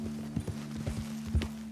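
Horse hooves clip-clop in Red Dead Redemption 2, a quick steady rhythm of close, muffled hoofbeats on soft ground.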